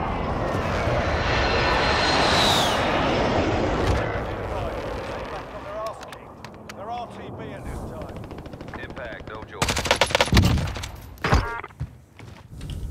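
Airstrike jets in Call of Duty Warzone: a loud roaring jet engine sweeps through in the first seconds, followed by rattling gunfire and sharp impacts, with voices talking over the game sounds.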